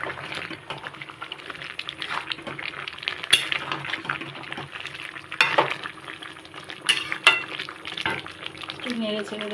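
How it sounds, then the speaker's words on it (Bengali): A jackfruit, spinach and prawn curry is stirred in a pan, with bubbling and sizzling under repeated scrapes and knocks of a spoon against the metal, and a voice talks in the background. "একটু নেড়ে ছেড়ে দেবো।"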